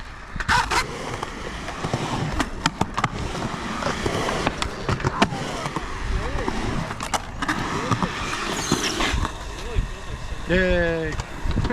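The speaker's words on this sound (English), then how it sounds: "work on carving up and into your grind with your heel wheels on the coping" A skateboard carving and grinding on pool coping for a 50-50 to fakie, wheels rolling and rumbling with sharp clacks and scrapes, while people talk and cheer nearby.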